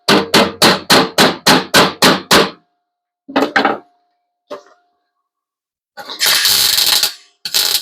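Eight quick, evenly spaced hammer blows ring out, followed after a pause by a few scattered strikes and a burst of louder banging, close by.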